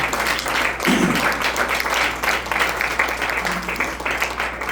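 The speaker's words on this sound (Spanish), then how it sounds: "Den una ofrenda de palmas a su Dios, a su Rey." A church congregation claps together as an offering of praise, a fairly loud, continuous wash of hands with a brief low murmur partway through.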